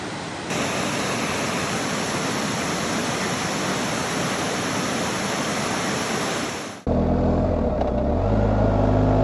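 A car rolls along a gravel road in West Virginia, producing a steady, loud broadband crunch and rumble of tires on loose stones that continues evenly for several seconds, then shifts abruptly to a lower, smoother road noise.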